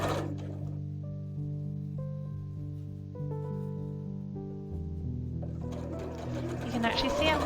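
A sewing machine stitches fabric while a scrunchie is gathered and guided under the presser foot, a steady mechanical hum running under close instructional talk, growing busier and louder near the end.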